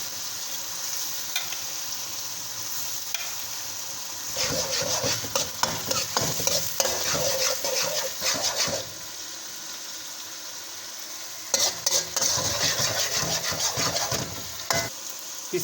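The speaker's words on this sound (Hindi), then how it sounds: "उन प्याजों को अच्छे से सौटे कर लें" Onions with ginger garlic paste sautéed in a pan for handi kabab, a soft background sizzle broken by two stretches of vigorous, rapid spoon scraping and stirring, close by, with no talking.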